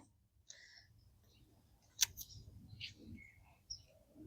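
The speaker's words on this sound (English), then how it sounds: "I can hear a lot of the birds out here" Scattered bird chirps and calls outdoors in a garden, a few short bright notes and one sharp click, over a quiet low background rumble.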